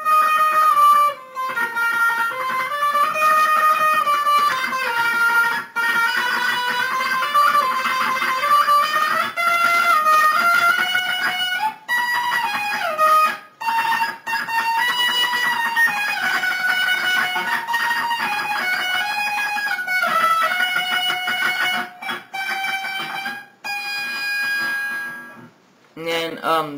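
An electric guitar plays a fast, tremolo-picked riff, a continuous stream of rapid high notes with a bright, ringing reverb tone. It is loud and runs almost without a break, with a few short pauses.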